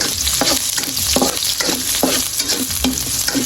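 Garlic and onion sauté in a pan for ginisang monggo, giving a loud, steady sizzle broken by regular rhythmic scrapes of stirring.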